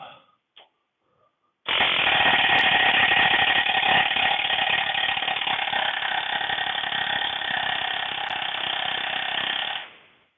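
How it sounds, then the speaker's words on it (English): A couple of short mechanical bursts, then a pneumatic air hammer rattles nonstop for about eight seconds, loud and close, driving out a sleeve, before cutting off. "I got my air hammer, and we are going to get the sleeve out"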